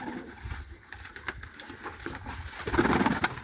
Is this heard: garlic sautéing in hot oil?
no